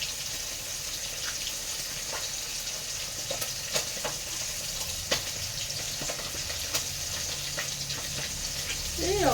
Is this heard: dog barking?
no